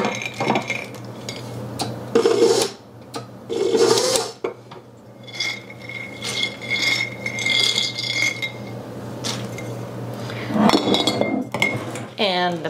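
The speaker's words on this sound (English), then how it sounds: "I'm going to add about a cup of hazelnuts." About a cup of hazelnuts clatters into a mixing bowl while biscotti dough is prepared, giving bright rattling clinks in two quick bursts, with a voice talking nearby and more clinking of dishes and utensils.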